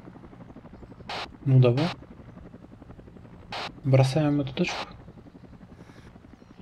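Helicopter in the ArmA 2 video game, a low continuous rotor drone with a faint steady rhythmic chop running under two people talking.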